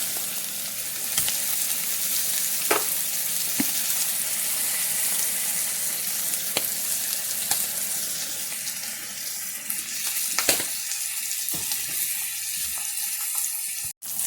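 Cube steak fries in a pan with a steady, close hissing sizzle throughout, broken by occasional faint clicks and pops.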